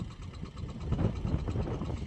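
A tractor engine idling in a village farm setting, a steady low rumble with uneven knocking pulses, fairly close and continuous with no other sounds over it.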